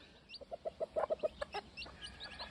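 Free-range mongrel game hens cluck in a quick series of about nine short, faint calls, then a few softer scattered clucks against a quiet outdoor background.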